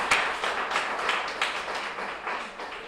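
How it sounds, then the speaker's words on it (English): A crowd gives steady applause at a food bank meeting, a dense wash of clapping holding at moderate loudness for a few seconds and fading slightly at the end. "Yeah, you could applaud that."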